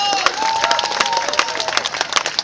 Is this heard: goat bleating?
no